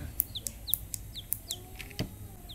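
Chirps and calls from Chiwki chickens, short repeated high calls spaced through the recording with a sharp crow-like burst near the end, moderately faint over a low rumble.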